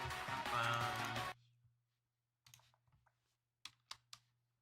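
Someone types briefly on a computer keyboard, a few scattered clicks and key taps close by after a loud stretch of other noise, with quiet gaps between.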